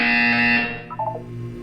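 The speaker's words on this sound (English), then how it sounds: "You will hear a buzzer." A loud electronic buzzer from the video game Portal 2 sounds as a steady tone for about half a second, then fades into a low hum with a few brief blips.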